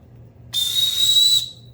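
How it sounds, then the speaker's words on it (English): One sharp, high-pitched blast from a survival kit whistle, held for about a second, loud and close, with a breathy hiss around the tone. "you have a whistle right on the back here"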